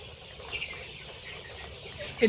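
Sonali super hybrid chickens on a poultry farm give soft, scattered clucks against a faint background hum, with a slightly louder call right at the end.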